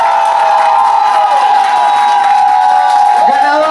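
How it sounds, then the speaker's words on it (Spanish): At a talent-show final, an audience roars for a contestant: a loud, sustained crowd of cheering, shouting and whoops with some clapping buried underneath. "Y aplauso para Victoria"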